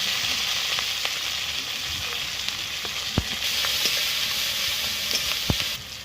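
Bay leaf, ginger and tomato sizzle steadily in hot oil for a vegetable dal, a continuous bright frying hiss with a few sharp pops and crackles, close up and with no talking.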